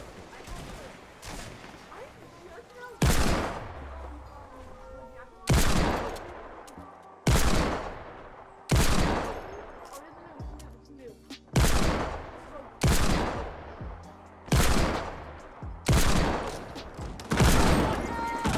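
Fortnite gunfire rings out in about ten loud, sharp bursts spaced a second or two apart, each a heavy crack with a trailing decay, over quieter game sounds and soft background noise.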